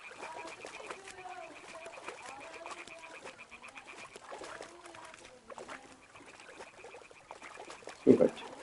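Birds sing in the medieval woodland of the video game Kingdom Come: Deliverance II, with soft, repeated chirps and warbles under quiet ambience, a voice speaking faintly, and a brief louder knock near the end.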